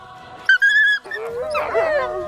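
Dogs whine, yip and snarl in a loud, close flurry of overlapping canine cries with a rising howl-like whimper, set in a frightening aswang horror story battle scene.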